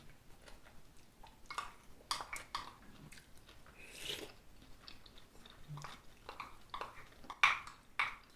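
Someone chews pear close up, giving soft wet crunches and smacking bites in an uneven rhythm with small clicks between them, and no one speaks.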